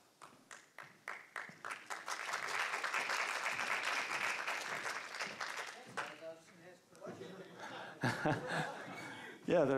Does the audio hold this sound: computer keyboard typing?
no